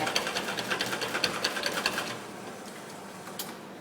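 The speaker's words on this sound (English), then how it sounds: "So I'm going to get all of that oil out by jiggling the handle with the blind filter in it up and down inside the head." A commercial coffee machine's handle with a blind filter in it is jiggled up and down inside the group head. It makes a close, rapid rattling clatter for about two seconds, then settles into a quieter hiss.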